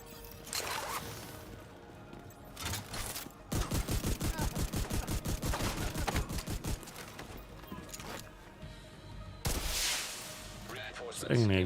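Shotgun blasts from The Division 2 video game, a dense run of loud, rapid booming shots fired in quick succession, followed later by a heavier burst, with game sounds around them.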